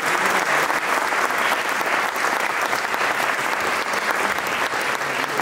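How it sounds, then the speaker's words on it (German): Sustained applause from an audience at the 2019 New Year's reception in Adelsdorf, welcoming the Christ Child performer; dense, steady clapping that stays loud and even throughout with no gaps. "Haben wir einen großen Applaus für unser Christkind."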